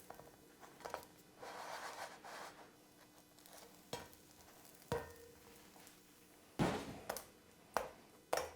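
Two-ounce beef patties fry in a skillet with a soft, steady sizzle, broken by several sharp taps and scrapes of a utensil against the pan, close by and without speech.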